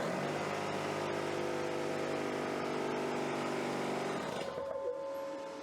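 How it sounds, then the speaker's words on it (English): An air compressor powered by a 2000W inverter runs loud and steady with a droning motor hum, then its tone shifts and thins near the end before winding down. "Compressor."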